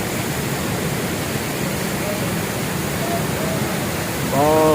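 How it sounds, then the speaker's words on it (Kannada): Hogenakkal Falls roars as a loud, continuous rush of falling water heard close by. It stays steady all the way through, and a faint voice or tone surfaces briefly near the end. "ಫಾಲ್ಸ್ ಹತ್ರ ಬರ್ತಾ ಇದ್ದೀವಿ."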